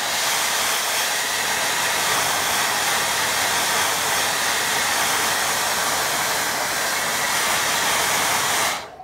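A hair dryer blows steadily on a watercolour painting, a loud continuous whooshing hiss that runs unbroken for about nine seconds before cutting off abruptly at the end.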